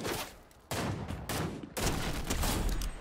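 Dense bursts of gunfire in the Fortnite video game, loud sustained volleys with brief gaps between them, filling the whole stretch with no talk.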